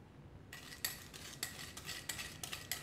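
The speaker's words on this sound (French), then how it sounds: "On mélange le sucre avec les œufs." Eggs being beaten with 90 g of sugar in a bowl for a marbled cake, a utensil scraping and clicking against the bowl in quick repeated strokes, close and fairly quiet with no talk.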